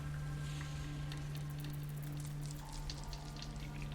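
Cold rain falls steadily, a continuous patter with a low hum running underneath throughout.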